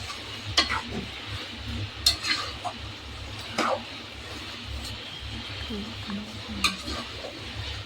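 Chicken curry pieces coated in masala are stirred in a pot, giving quiet, intermittent scraping and clinking strokes over a low background hum.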